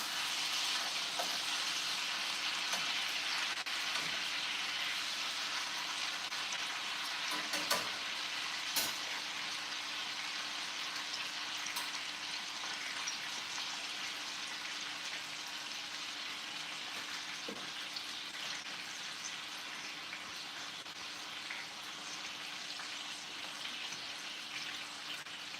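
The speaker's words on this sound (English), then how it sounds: "we're just trying to get a nice sear on the meat" Pork tenderloin searing in a hot pan gives a steady, close sizzle that runs unbroken throughout, with a few brief clinks and bumps along the way and no talking.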